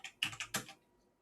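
Four quick clicks come from a computer keyboard with a faulty super key, struck in a brief uneven burst close up in a quiet room, then the sound falls silent.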